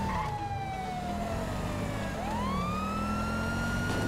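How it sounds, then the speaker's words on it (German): A police car siren wails steadily in GTA V, its tone sliding down and then sweeping back up over continuous engine and road noise, loud and close throughout with no talk. "dass wir jetzt mit dem Polizeiwagen mit der Sirene in das Polizeirevier reinfahren"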